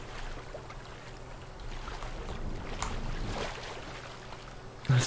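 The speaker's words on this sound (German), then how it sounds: "Das Boot hat die Geräusche immer." Steady low rumble of a video game boat moving through water with a soft wash of wind, continuous and moderate, ending on a brief louder thump, in Prey for the Gods.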